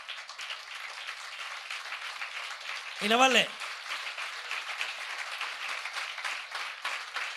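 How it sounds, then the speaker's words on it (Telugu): A congregation claps loudly at an all-night prayer meeting, a dense, steady wash of many hands throughout, with a brief rising voice cutting through partway. "చప్పట్లు కొట్టండి గట్టిగా"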